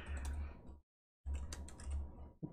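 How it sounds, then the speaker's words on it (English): Typing on a computer keyboard: two dense bursts of rapid key clatter broken by a brief silent pause, close and moderately loud, with a final short tap at the end. "if I can type at all"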